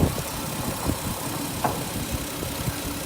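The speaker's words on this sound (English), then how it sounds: "Yeah, she's running. She does sound like a supercharger." A turbocharged Lexus IS200 engine idles steadily with a continuous low rumble and faint irregular ticks, heard close with no talking.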